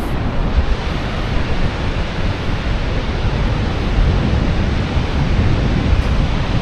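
Niagara Falls pours an enormous volume of water, producing a dense, continuous roar of broadband rushing noise that stays loud and unchanging throughout, with some wind buffeting mixed in.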